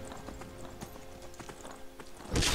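Faint hoofbeats of a galloping horse in modded Skyrim clop in a quick, irregular rhythm, ending with a sudden louder burst of noise.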